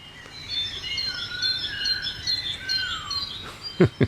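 Synthesized birdsong made with Reaktor, several overlapping chirps and whistled phrases, fairly close and clear, ending with a couple of sharp knocks.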